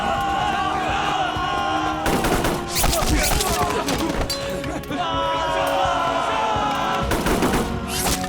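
Rapid bursts of gunfire crackle loudly in two heavy volleys over a dense, chaotic background of shouting and clatter.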